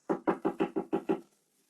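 Seven quick, evenly spaced knocks on an office door, close and fairly loud, then silence.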